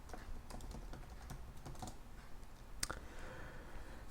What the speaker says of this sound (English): So I will write in Nawid and then hit enter.